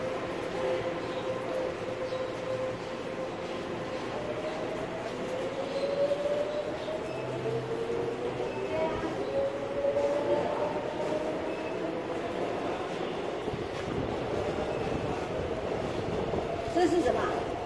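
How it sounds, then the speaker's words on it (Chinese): A train rumbles through Daling railway station, an open-air station in Taiwan, with drawn-out wheel squeals rising and falling over a steady, moderately loud rolling noise. "又到了大岭火车站"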